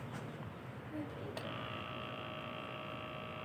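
After a brief click, a small electric pump starts and drones steadily as a blood pressure cuff inflates on a rooster, over a low background hum.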